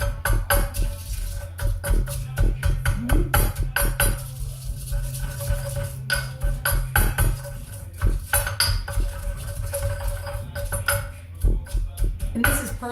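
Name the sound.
stirring and mashing with mortar and pestle and coarse salt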